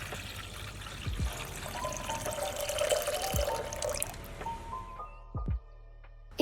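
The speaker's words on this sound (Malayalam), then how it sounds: "ഞാൻ അതിലേക്ക് 2 ഗ്ലാസ് വെള്ളം ഒഴിച്ചു കൊടുക്കുക." Water poured from glasses into a milk pot, a running gurgling pour with a few drips and clinks, close and moderate, ending in a brief splash after a quiet gap.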